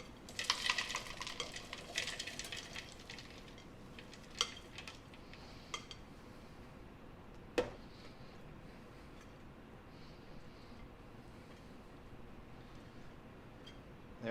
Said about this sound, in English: We're going to empty all of our ingredients into the food processor.